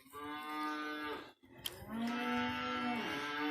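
First-calf heifers in a barn give two long, drawn-out moos one after the other, close and clear, with a short quiet gap and a brief knock between them.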